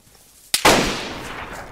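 Gunfire in the video game DayZ: two sharp shots in quick succession, loud and close, the second followed by a long booming echo that slowly fades.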